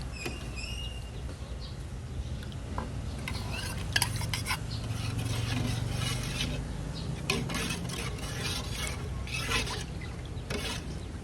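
A spoon scrapes and clatters against a pot while Thai curry paste is stirred with salt for a mushroom and bamboo shoot curry, with repeated metallic knocks over a low steady background hum.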